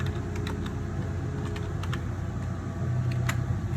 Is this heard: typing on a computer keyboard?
yes